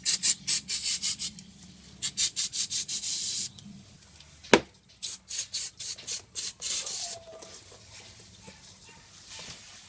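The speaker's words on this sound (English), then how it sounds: "we're going to hit it with some degreaser first" A degreaser spray aimed at a worn Subaru front control arm, heard as a run of short, crisp hissing bursts in quick rhythm, a pause, one sharp knock, then more bursts, close and fairly loud with no talk.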